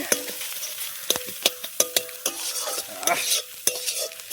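Scrambled egg fries in a pan over an outdoor cooking fire in a forest, with a steady close sizzle broken by sharp, irregular clacks of a utensil stirring and scraping.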